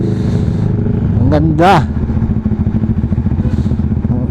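Motorcycle engine running steadily just after its first oil change, heard while riding, with a continuous close hum and a brief rev; someone speaks briefly over it.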